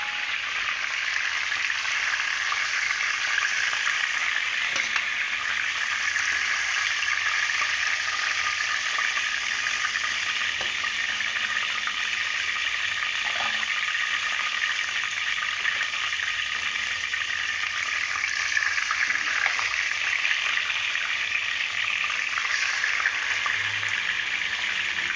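Broiler chicken pieces fry in a pan for a roast, giving a steady, loud, even sizzle with crackling that carries on unbroken throughout, with no voices over it.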